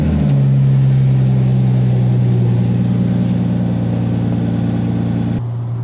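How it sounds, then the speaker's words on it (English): A 4x4 engine turns over and settles into a steady, loud idle, its low rumble holding evenly for several seconds before cutting off abruptly near the end. "I need to go and start the motor so that it doesn't drain my battery"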